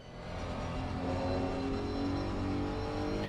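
A Honda GT3 race car engine in a racing video game at the Nürburgring hums as a steady, moderately quiet drone, holding an even tone with little revving change across a few seconds.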